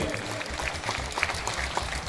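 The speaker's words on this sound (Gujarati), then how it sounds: "એમના માટે એક વખત જોરદાર હાથ ઉદ્ધર કરીને તાળી પાડો મિત્રો, જોરદાર હજુય." Crowd applause at the opening of a BJP central campaign office for the Patan municipal election in Ward 1, a steady dense patter of clapping hands throughout, moderately loud and continuous.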